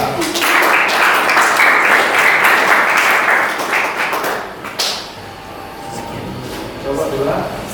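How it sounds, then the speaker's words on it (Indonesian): An audience applauds a group presentation in a classroom, giving about five seconds of moderately loud clapping that thins out into room noise with a few taps and thuds. "Beri tepuk tangan pada kelompok 2."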